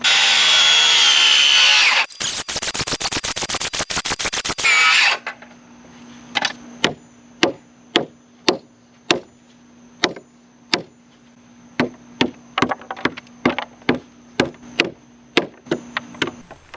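Power tool cutting a 1.5 inch notch in a wooden deck post or framing: a loud burst of rapid, gritty cutting roughly three seconds long, then a string of sharp, evenly spaced chopping knocks against a steady motor hum.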